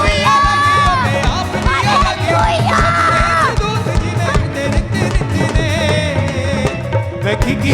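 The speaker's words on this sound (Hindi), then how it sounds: "तारीफ करें जोर से तालियों के साथ, अपने हाथों को हिलाते हुए थैंक यू जीसस बोलते हुए ऊंची आवाज में" A loud crowd at a church testimony meeting yells, whoops and cheers all at once, a dense roar of many voices with shouts rising above the din.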